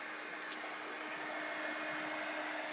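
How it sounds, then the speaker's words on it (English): A heat gun blows steadily while drying paint in a craft session, a continuous close airy whoosh with a faint motor hum, unbroken for the whole stretch and with no voices. "all I'm going to do is take a heat gun just to speed up this drying process"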